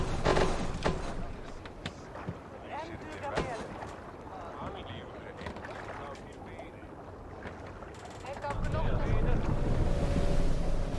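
A sailing longship in the Assassin's Creed Valhalla video game moves under strong wind, with gusting rushes of air and water swells building louder toward the end while voices and game sounds come and go.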